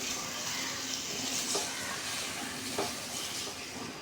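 Spice paste with pre-fried sweet pumpkin sautés in a pan with a steady, soft sizzle and faint stirring scrapes, close by and continuous.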